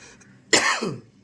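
A single harsh cough with a throaty rasp, sudden and close, breaking an otherwise quiet moment at a home meal.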